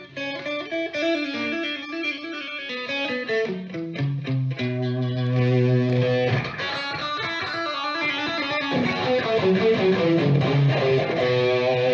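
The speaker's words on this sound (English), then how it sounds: "a nice thing about the Tube Screamer is it cleans up nicely, it tightens up the low end" Overdriven electric guitar through a Rock Stuff RS808 Tube Screamer clone pedal playing a melodic line, moderately loud and continuous, with a warm, slightly compressed distortion and chord-like sustained notes.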